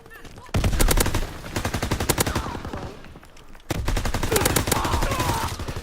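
Rapid gunfire from Call of Duty WW2 multiplayer, dense bursts of loud shots starting abruptly, a brief lull, then another sustained volley with near, sharp cracks.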